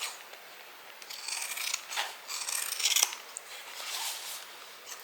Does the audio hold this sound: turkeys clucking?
no